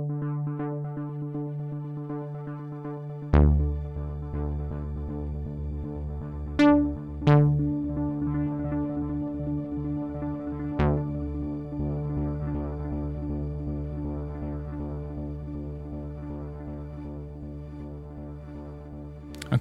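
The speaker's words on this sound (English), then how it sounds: "washy pitch delay with this kind of grainy feel to it" A Behringer Model D synth runs through a Soundtoys Pulsed Grains shimmer preset, holding a sustained tone with a few sharp attacks that bloom into washy, grainy pitch-shifted delay tails, alone and steadily present.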